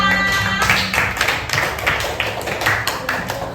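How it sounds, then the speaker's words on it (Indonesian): Classroom of students applauding together, a dense rattle of many hands clapping steadily for a few seconds and then thinning slightly toward the end. "Tepuk tangan untuk kita semua"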